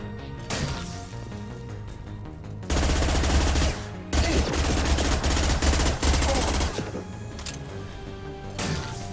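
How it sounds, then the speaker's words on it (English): Pistol gunfire in the 2010 PC action RPG Mass Effect 2, with a dense, loud burst of rapid shots in the middle stretch and scattered single reports and impacts before and after, amid game music and effects. "Boom, quick little pistol."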